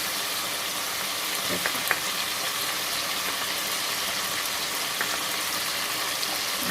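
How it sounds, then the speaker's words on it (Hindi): Onions fry in a pan with ginger garlic paste for a vegetable pulao, a steady close sizzle hissing evenly throughout with a few faint utensil knocks and no talk. "देखिए 2 मिनट हो गए प्याज को भूनते हुए।"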